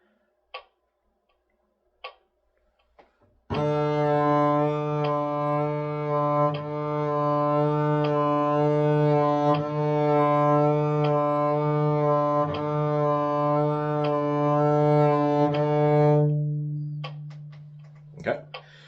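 A double bass holds a sustained low bowed note with vibrato pulsing in a steady triplet rhythm for about twelve seconds, alone and close, framed by brief taps and a faint voice before and after.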